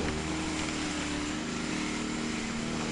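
A grass cutter mows grass outdoors near cottages, giving a steady, loud, continuous engine drone that runs throughout without a break.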